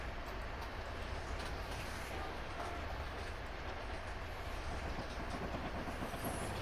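A train passes in a railroad simulator game on the Sherman Hill line, a steady, moderately loud rumble of rolling wheels and rail noise with faint clicking throughout.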